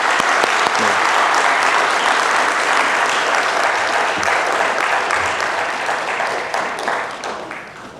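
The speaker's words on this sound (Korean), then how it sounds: "다시 한번 뜨겁게 축복하는 박수로 환영하고 내려가시기 바랍니다." A church congregation gives sustained, dense applause during a Sunday worship service, a full roomful of clapping that holds steady, then thins and fades toward the end.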